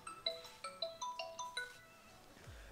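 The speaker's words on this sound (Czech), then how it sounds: "Sorry, telefonát, ten neodloží, ten jde za chvilku vyřešit." A phone ringtone for an incoming call plays a repeating pattern of bright, melodic electronic notes at moderate volume, with no voices.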